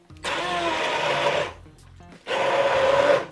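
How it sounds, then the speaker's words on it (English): An immersion blender pulses chipotle black bean soup at the bottom of a pan, giving two loud whirring bursts separated by a short, quieter pause. "I'm just going to stick my immersion blender all the way down to the bottom of your pan"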